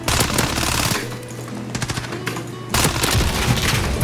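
A Fennec (Vector) submachine gun fires in Call of Duty: Modern Warfare multiplayer in rapid, loud automatic bursts. A long burst breaks off, a quieter pause with scattered shots follows, then another sustained burst.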